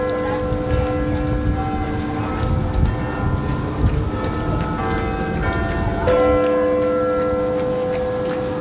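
Deep, resonant clock tower bell tones ring out and sustain, overlapping in a slow chime, with a fresh strike partway through and a busy ambient hum underneath.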